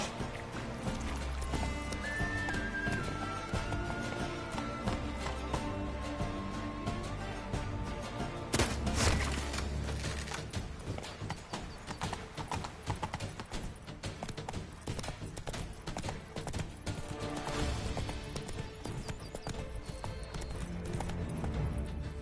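Roach the horse trotting in The Witcher video game, a steady close clip-clop of hooves running throughout, with game music and ambience underneath and a brief louder burst partway through.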